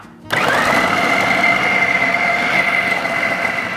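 Electric grinder processing seasoned chicken meat for homemade chicken luncheon, starting abruptly and whirring in a loud, steady high-pitched drone with a faint strain, no talk.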